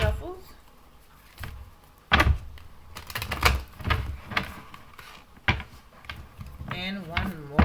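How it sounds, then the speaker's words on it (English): Cards shuffled with quick riffling and slapping bursts, uneven in rhythm, close by, while a voice talks intermittently. "2 more shuffles."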